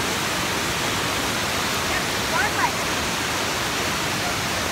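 Waterfall at Cachoeira da Capivara in Alto Paraíso, Cerrado, a constant broadband roar of falling water filling the scene, steady and loud throughout.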